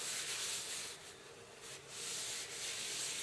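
A paper towel rubs steadily around a cast iron pan, spreading butter across the seasoned surface on a wood cook stove, a soft close-up scuffing hiss with a few brief pauses, no talking.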